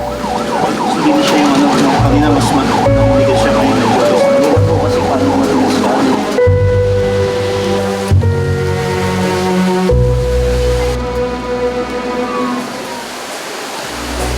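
An ambulance siren wails continuously during a rescue transport, loud and close, its rising and falling tones layered over steady road and engine noise.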